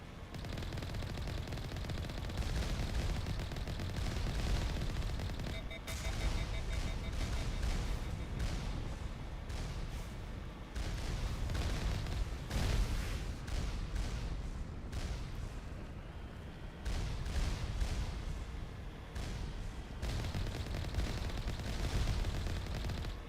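Turrets firing in the video game Mass Effect: dense, rapid bursts of gunfire with short breaks, loud and continuous.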